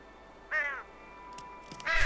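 A crow in the video game Unravel caws twice, a harsh nasal call followed by a second after a pause, fairly close and clear over a quiet, faintly humming background.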